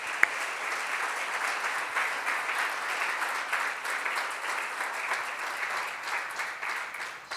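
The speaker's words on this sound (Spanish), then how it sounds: "Yo quiero que le den un aplauso a eso." A church congregation applauds steadily for several seconds, a dense, even wash of many hands clapping at moderate distance with no break.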